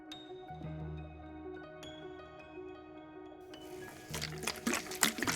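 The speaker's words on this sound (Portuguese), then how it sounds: "ele trouxe uma bacia com água à vista de todos e lavou as mãos publicamente" Water is poured into a basin and hands are washed in it, sloshing and splashing that rises near the end over a steady, sustained musical backdrop.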